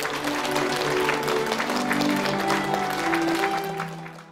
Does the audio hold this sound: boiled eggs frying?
no